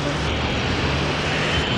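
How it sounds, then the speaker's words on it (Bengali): Boeing 747 jet engines roar in a video game, a loud, dense, steady broadband rush that fills the whole moment without a break, with some speech mixed in. "বোয়িং 747 ছেড়ে দিতে যাচ্ছে, ছেড়ে দিয়েছে মনে হয়"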